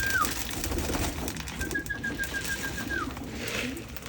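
Breeder pigeons waiting to be fed make a soft, low cooing murmur, heard close and fairly quiet alongside a few brief higher tones.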